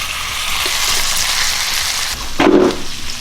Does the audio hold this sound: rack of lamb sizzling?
yes